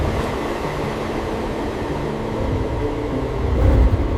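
A local train at Hitech City station gives a loud, continuous rumble of rolling wagons with a low clatter that swells near the end, and no voices.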